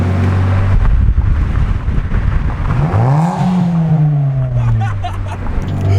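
A Honda Civic with a loud aftermarket exhaust roars steadily while driving, the engine note rising in pitch through acceleration, close and loud with wind buffeting.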